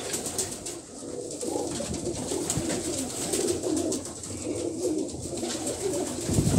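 Old-breed red Lakha pigeons coo continuously, a dense overlapping flock of low burbling calls close by, with no speech.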